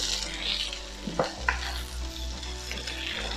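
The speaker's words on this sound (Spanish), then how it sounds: "Vamos a echar los vegetales de una vez. Y vamos a revolver" Vegetables frying in a pan while being stirred, with a continuous sizzle, a low steady hum beneath it, and occasional clinks and scrapes from the utensil, close up and with no talking.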